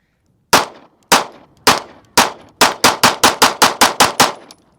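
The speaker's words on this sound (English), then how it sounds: "So first shots with the CDS9." Eleven sharp pistol shots from a Kimber CDS9 at an outdoor range, loud and close: four spaced single shots, then seven fired in quick, steady succession, each with a short ringing decay.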